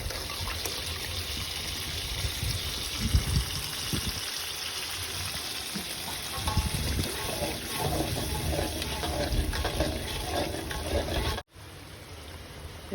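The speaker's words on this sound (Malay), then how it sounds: "So, kita tambah air sikit kat santan tu." Water pours from a tap or jug into a pot of coconut milk for a traditional Malay dish, a continuous trickling gush with a few low clunks before it cuts off abruptly near the end.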